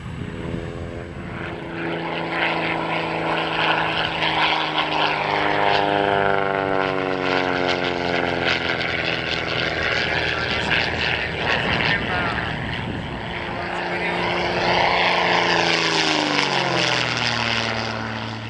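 A Taurus light aircraft flies past at a flying school, its propeller engine droning with a steady tone that sweeps down and then up again as it passes near and moves off, loud throughout, with no talk.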